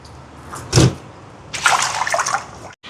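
Stingray fish pieces are washed in water with rock salt, a brief splash and slosh followed by a longer stretch of rubbing and swishing in the bowl, close by.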